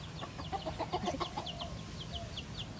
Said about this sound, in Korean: 길에 이거 닭이 왜 있냐고